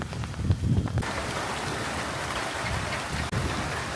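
Sudden rain sweeps over a Bangladeshi farm village with gusty wind, a steady loud hiss of falling drops and wind noise, with a few heavier low rumbles early on and no talking.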